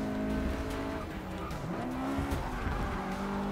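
A race car in Forza Motorsport 6 spins out, its tires squealing and skidding under a loud revving engine whose pitch slides up and down, continuous and close.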